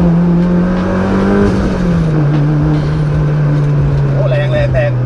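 A tuned 815 HP Mitsubishi Evo 9 accelerates hard in a single gear, its engine note a loud, sustained rising roar heard from inside the car with a voice talking over it.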